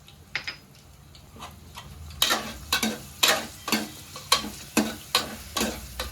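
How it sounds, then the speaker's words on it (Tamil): Onions and crushed garlic cloves frying in a pan, starting with a light sizzle and turning into a steady run of rhythmic spatula strokes, about one every half second, close and without speech. "இப்போ நான் ஃப்ளேவருக்காக ஒரு 2-3 பல் பூண்டை தட்டி போட்டுக்கிறேன்"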